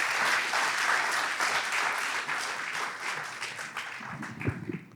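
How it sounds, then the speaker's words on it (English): A crowd at a free speech event in Christchurch gives sustained applause, a loud continuous patter of many hands that gradually loosens and thins toward the end, with a few louder individual claps and faint voices. "Give him a hand. Give him a round of applause."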